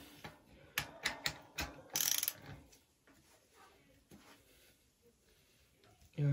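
A ratchet tool clicks in several quick bursts as it loosens a 10/12-speed bicycle cassette, the sharp mechanical ticks close and fairly quiet, followed by softer handling noises.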